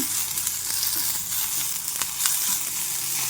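Onion and green chilli pieces sizzle steadily in hot oil with curry leaves while gongura and fenugreek leaf curry is being made, with a close, continuous frying hiss and a few sharp crackles and pops throughout.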